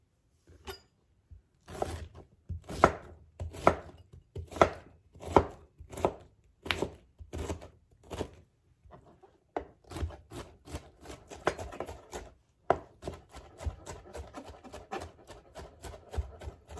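Pineapple is chopped finely with a knife on a board, a close series of crisp thuds, first in an evenly spaced slow rhythm, then quicker and denser strokes, with no talking.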